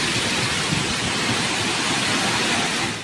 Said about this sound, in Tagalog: Malakas na hangin na sinabayan ng walang tigil na buhos ng ulan.